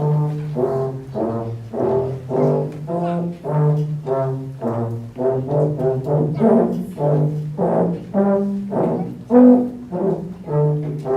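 A school ensemble plays the piece Morning at a fine arts concert: sustained, melodic wind notes rise and fall in phrases, steady and fairly loud throughout, with no talking.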